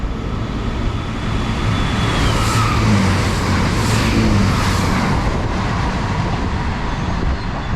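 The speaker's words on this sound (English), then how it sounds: "passing through now is going to be a Chiltern Railway service from London Marylebone to Oxford" A Chiltern Railways train from London Marylebone to Oxford rushing through West Ruislip station, a loud, continuous roar of wheels and rushing air with a faint high squeal, holding steady for several seconds with no talk.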